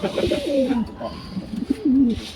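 A racing pigeon coos close by, two rolling, throaty coos in quick succession with faint background noise.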